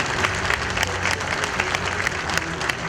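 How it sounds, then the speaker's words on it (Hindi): Dense applause from a large crowd at an outdoor election rally in Haryana, steady and loud throughout, with faint voices mixed in. "आपकी ताली बता रही कि आप वोट जरूर देंगे"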